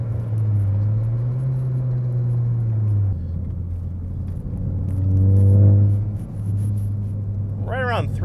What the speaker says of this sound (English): It's really deep and really boomy at that RPM